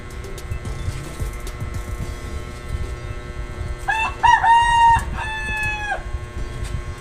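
Rooster crowing in a rural setting during an outdoor meal, one clear cock-a-doodle-doo at moderate distance rising over a steady low background murmur, with no speech.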